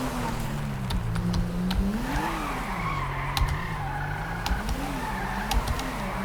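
A Mitsubishi car in the video game GTA 5 driving onto asphalt, its engine droning with rising and falling pitch while tires squeal and skid, punctuated by sharp clicks.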